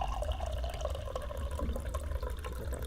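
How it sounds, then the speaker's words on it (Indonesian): Water pours steadily into a container, drawn for brewing kopi tubruk, as a continuous close gurgling stream with faint dripping and no voices. "Ini kita ambil dulu airnya"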